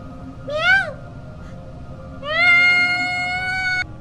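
A person imitates a cat, giving two exaggerated meows: a short one, then a longer drawn-out one, loud and close over a low background hum.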